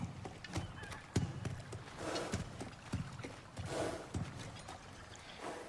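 Kelpie mount in God of War Ragnarök: a rhythmic clip-clop of hooves with a short whinny, moderately quiet and close, plus faint watery trickling in the background.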